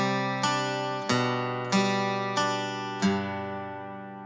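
Slow guitar arpeggio from a song section, five clean picked chords, each ringing out and decaying before the next, quiet and alone.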